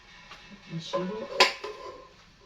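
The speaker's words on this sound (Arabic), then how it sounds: "التيفال ده والطاسه دي." Metal cookware clatters in a kitchen drawer as a Tefal pan and a frying pan are handled, giving a few close knocks and scrapes with a sharper clank in the middle.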